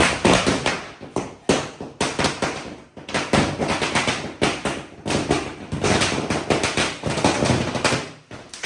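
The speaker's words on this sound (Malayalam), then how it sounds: "അപ്പം നമ്മുടെ വിഷു പടക്കങ്ങൾ പൊട്ടിച്ചുകൊണ്ടിരിക്കുകയാണ്" Vishu firecrackers burst in rapid, irregular volleys of sharp loud cracks and pops, close by and almost continuous, with brief gaps between clusters.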